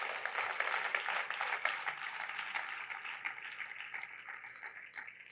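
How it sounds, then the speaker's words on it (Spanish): Congregation applause at a church service fills the room with dense, steady clapping from many hands, loud at first and gradually thinning and fading toward the end. "Denle un aplauso al Señor"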